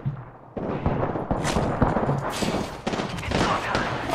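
Rapid bursts of gunfire in a battle royale shooter game ring out almost continuously and fairly loud, with sharp cracks stacked over a dense roar and no clear talk over them.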